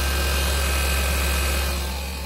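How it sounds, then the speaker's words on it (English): A Seat Ibiza 1.2 TSI engine runs steadily with a fitted new alternator, giving a constant, close mechanical hum that eases slightly near the end. "an engine is running"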